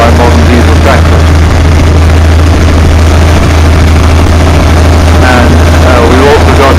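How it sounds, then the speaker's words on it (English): Fowler K7 steam ploughing engine running at a working demonstration, a loud steady low rumble with rhythmic chuffing throughout, and voices faintly present. "We've also got a K7 ploughing engine, steam ploughing engine coming up the outside."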